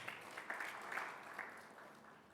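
Congregational applause at a Sunday church worship service, moderately loud and sustained over a couple of seconds with a broad, steady wash of claps.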